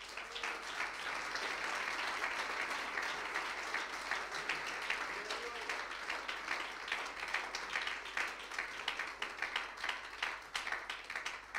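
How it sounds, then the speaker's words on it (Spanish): A church congregation applauds steadily in praise during a Spanish-language sermon, the dense clapping holding level throughout before thinning slightly toward the end. "De un aplauso al Señor."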